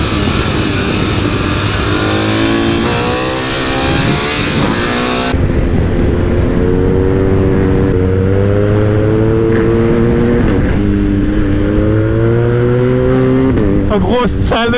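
A BMW R1250GS motorcycle with a quickshifter accelerating hard, the engine loud and close, its pitch climbing repeatedly through quick gear changes, with a rider talking over it.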